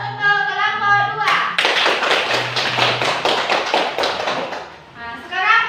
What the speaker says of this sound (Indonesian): Aplaus untuk kelompok dua.